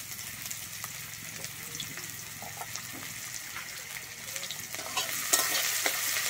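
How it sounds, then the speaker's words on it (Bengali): Chopped onion frying in hot mustard oil with nigella seeds for a bean dish, a steady close sizzle and stirring that grows a little louder toward the end, with no talk. "আমি কুচানো পেঁয়াজটা দিয়ে কিন্তু ভালোভাবে ভেজে নেব"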